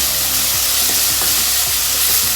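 Masala for a potato and pea dish frying in a pan over low flame makes a loud, close, steady hiss and sizzle with faint scraping stirs, and no one speaks.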